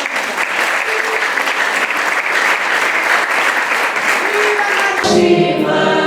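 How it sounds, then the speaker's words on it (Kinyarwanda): Congregation applauding during a church worship service, a dense steady wash of clapping from many hands that stays loud throughout, then shifts near the end as music or singing swells in. "Reka twegere Imana amashyi"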